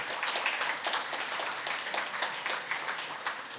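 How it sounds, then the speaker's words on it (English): An audience at a PyData Amsterdam conference talk gives the speaker a round of applause: dense, steady clapping from many hands in a room, lasting a few seconds with no break. "Please give some applause to Ankur."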